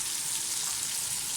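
Tomatoes and spices, including ground coriander, cumin, red chili powder and crushed chilies, frying in a pan for aloo mongray curry, giving a steady, even sizzle that stays close and moderately loud throughout with no talking.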